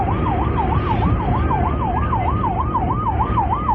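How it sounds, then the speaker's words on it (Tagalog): A long-range acoustic device on China Coast Guard ship 3103 near Zambales blares a loud, wavering siren that wails up and down in a fast, steady cycle over a deep engine rumble. "Ang malakas na wangwang na yan ng CCG 3103 ayon sa Philippine Coast Guard ay masakit sa pandinig"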